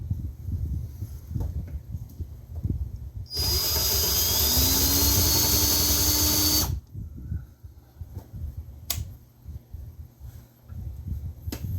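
A cordless drill whirs steadily for about three seconds, high-pitched and close, then stops, with quiet handling noises before and after.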